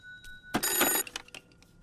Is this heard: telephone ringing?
yes